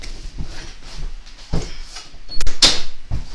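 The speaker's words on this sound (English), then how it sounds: "You might want to close your door." An indoor door swings shut with a couple of knocks and a latch click, fairly close and clear, with no talking over it.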